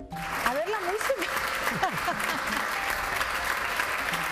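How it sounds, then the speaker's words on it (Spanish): Studio audience applause welcoming a guest on a Spanish TV show, steady dense clapping from a crowd heard under music and a presenter's voice. "De Alberto Medina, un aplauso para él."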